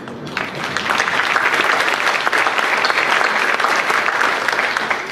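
Sustained applause from a crowd at a media event at Knott's Berry Farm, a dense steady clapping that starts abruptly and holds at full strength throughout.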